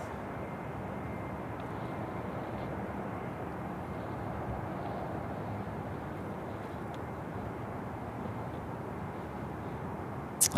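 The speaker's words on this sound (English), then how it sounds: "Next service in from Melbourne, 737-800, Qantas 436 on finals, 34 left" A Qantas Boeing 737-800 arriving from Melbourne on final approach to Sydney Airport, a steady broad jet engine rumble and roar held constant throughout, moderately distant, with no talk.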